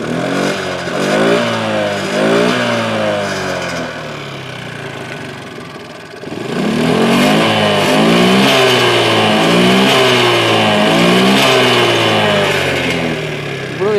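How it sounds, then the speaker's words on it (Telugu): A scooter with a worn cylinder bore is started and revved close by, its engine rising and falling in repeated throttle blips over a rough idle. "బోర్ అంటే ఇలా స్టార్ట్ చేసాం కదా,"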